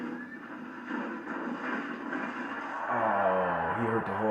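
During a televised jousting scene, a horse gives a loud neigh near the end, rising over a steady background of crowd and soundtrack noise, while a voice talks quietly beneath it.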